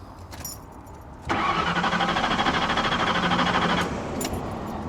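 A flood-damaged 1992 Ford Crown Victoria with 11,000 miles cranks after a faint key jingle. The starter whirs for about two and a half seconds in a close, steady, pulsing churn and never catches.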